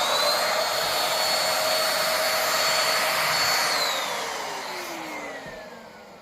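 Corded vacuum cleaner with a roller making a single swipe, a loud close whine with a high tonal hiss that holds steady, then drops in pitch and fades as the pass ends.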